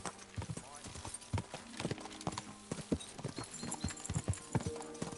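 Horse hooves clip-clop in an uneven walking rhythm, close by, in the video game Kingdom Come: Deliverance II, with a low voice speaking briefly over them.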